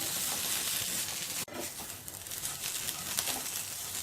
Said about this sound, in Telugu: 5 to 10 మినిట్స్ ఇది కొంచెం కలర్ చేంజ్ అయ్యేంత వరకు వేయించుకోవాలి.